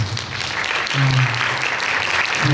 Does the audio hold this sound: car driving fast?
no